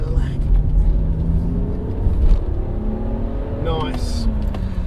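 A car engine revs as it accelerates, a loud close drone with its pitch climbing through the gears, while someone talks over it.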